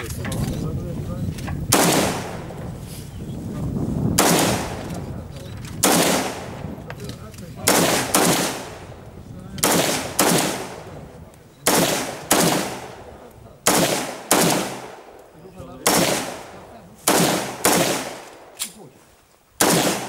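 Rapid bursts of AK rifle gunfire at a live-fire shooting range, loud and close, coming in repeated short volleys separated by brief pauses across the stretch.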